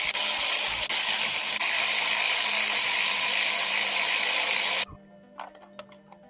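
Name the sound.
ratchet removing spark plugs from 2007 Mini Cooper S engine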